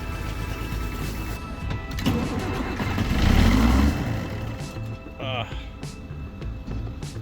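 A vehicle engine cranks over while being jump-started with a boost pack, a rough churning that swells in the middle of the clip amid background noise.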